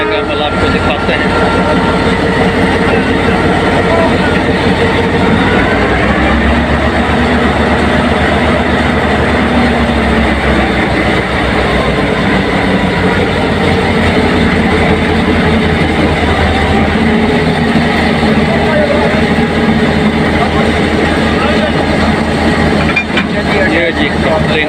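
A railway locomotive is uncoupled and detached from its train, with a loud continuous low engine rumble and rail clatter throughout and a voice talking over it.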